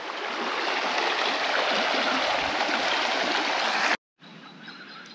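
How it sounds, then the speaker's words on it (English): O'Briens Creek near Mount Surprise in North Queensland runs in a steady, close rush of flowing water for about four seconds, then cuts to a quieter, thinner stretch of the stream. "sit here for a couple of hours in the shade, listening to the water run"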